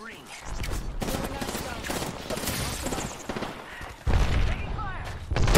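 Gunfire in the battle royale game Apex Legends, dense rattling automatic bursts and shots layered close together, ending in a louder heavy volley, with game voices calling out beneath the fire.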